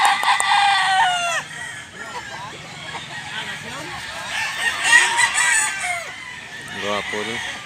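A gamefowl rooster at a breeding yard in Mantalungon, Barili crows loudly and close, one long descending call followed by softer clucks and scattered bird calls, with someone talking intermittently over the yard noise.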